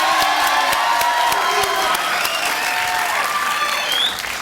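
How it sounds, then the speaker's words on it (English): Studio audience on a televised dating game show applauds continuously, a dense steady clapping with some cheering and whoops mixed in, loud and sustained throughout without talk. "Give them a round of applause."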